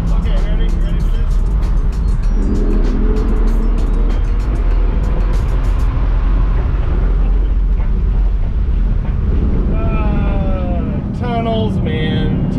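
A supercar drives through a tunnel, its loud engine roar and road noise booming and echoing steadily off the walls, close and constant, with people talking excitedly over it.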